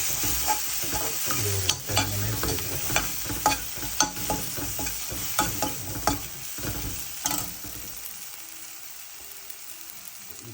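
Crab gravy with coconut being stirred and mixed in a frying pan, a steady sizzle under repeated scraping strokes of the spoon, close and fairly loud, easing to a quieter simmer near the end.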